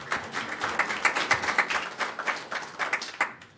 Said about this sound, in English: Wait for the applause.